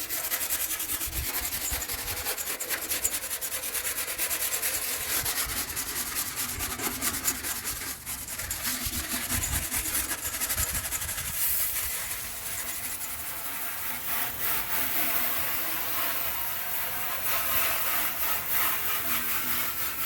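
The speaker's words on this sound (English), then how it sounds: "I'm going to be doing it with a drill and a wire brush" Drill-driven wire brush scrubbing rust and grime off a Chevy box-body battery tray and inner fender, a continuous loud abrasive whir and rasp that varies slightly in pressure, close up with no talking.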